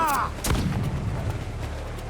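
Ship cannons firing in the naval combat of the video game Assassin's Creed Black Flag, a heavy boom near the half-second mark followed by rumbling blasts and low battle noise throughout.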